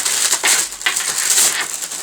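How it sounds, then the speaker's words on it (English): Plastic wrapping is torn and crinkled off the packaging of an A4Tech KB-28G gaming keyboard, producing a continuous close crackling and rustling for about two seconds with no talking. "Now getting the wrapper off."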